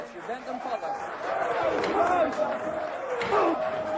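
Crowd at the 1988 World's Strongest Man arm-wrestling contest reacts with loud disapproving jeers and shouts over a disputed referee call, a dense continuous roar.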